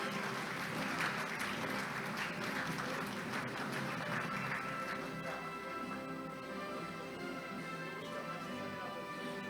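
Audience applause for thesis award winners at an accounting association's summer international conference opening ceremony, a steady wash of clapping filling the hall throughout, with faint tonal sound beneath.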